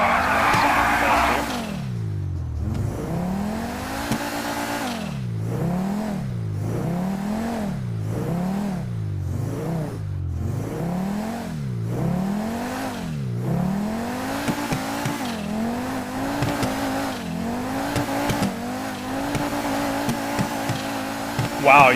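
The Maibatsu Penumbra, a Mitsubishi Eclipse-style car in a video game, revs its engine in a rising and falling rhythm with tire squeal, steady and loud throughout, while a voice talks over it.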